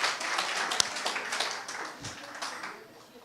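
At a Korean dental health lecture and charity event, the audience claps in a brisk burst that fades over a few seconds.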